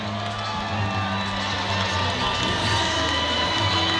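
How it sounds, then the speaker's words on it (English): Arena crowd at a boxing fight cheers, whoops and shouts in a continuous roar, moderately loud, with a low hum beneath it. "Ladies and gentlemen, once again, a round of applause for both Warriors."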